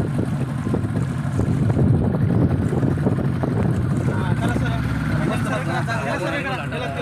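A motorboat on the Vaitarna river, heard as a continuous engine drone mixed with water rush and wind buffeting on the microphone while people talk over it.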